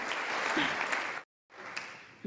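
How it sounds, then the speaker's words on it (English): A crowd claps at a political speech: dense, steady applause that cuts out briefly and then resumes. "that one is literally so that everyone gets up and claps"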